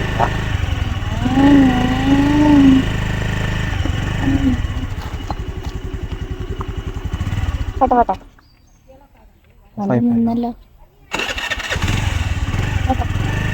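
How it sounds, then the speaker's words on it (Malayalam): A scooter engine starts and settles into a steady, close putter, briefly cutting out and catching again, while people talk nearby. "നമ്മുടെ സ്കൂട്ടർ സ്റ്റാർട്ട് ആയിട്ടോ"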